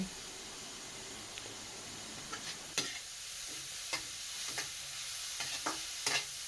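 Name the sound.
carrots sautéing in a pan for rellenong bangus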